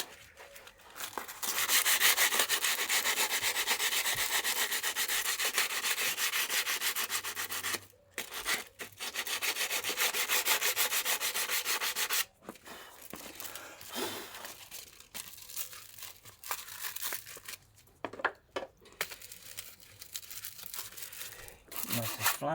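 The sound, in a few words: sanding a brake disc with sandpaper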